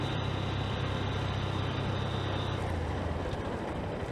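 A 2023 Honda CB125F motorcycle being ridden, with a steady low engine drone and broadband wind rush continuing loudly throughout, with no talking.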